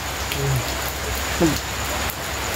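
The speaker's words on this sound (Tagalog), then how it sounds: "Kusod din ang ulan bro." Heavy rain pours in a dense, steady hiss over a surface, loud and close, while a few brief voices cut in over it.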